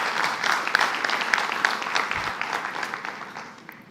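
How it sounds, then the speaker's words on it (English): A conference audience at an internet registry meeting applauds the event sponsors, a moderate round of clapping that gradually thins and fades out toward the end. "If I could have a round of applause for our sponsors."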